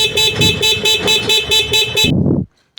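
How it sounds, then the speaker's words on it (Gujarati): A car horn sounds in rapid repeated toots, about eight evenly spaced beeps, loud and close, with an indicator engaged, then stops abruptly into near silence. "આપણે ઇન્ડિકેટર પણ ચાલુ થઈ ગયું ને હોર્ન પણ ચાલુ થઈ ગયું."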